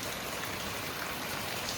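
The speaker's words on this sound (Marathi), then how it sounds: "तुम्हाला पाऊस दाखवतो." Heavy night rain pours steadily at Guptkashi on the way to Kedarnath in Uttarakhand, a dense, even hiss of falling drops with no pauses and no voices.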